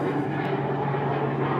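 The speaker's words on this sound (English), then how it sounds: "Wait for the airplane." A steady broadband roar of an airplane passing overhead outdoors, continuous and moderately loud with a low droning hum and no other sounds.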